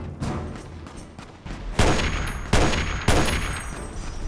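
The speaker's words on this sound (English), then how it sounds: "The little sniper rifle action again." Sniper rifle shots ring out in Fallout's Tale of Two Wastelands, three loud, sharp cracks spaced about a second apart, each trailing off with a ringing tail after quieter scattered fire.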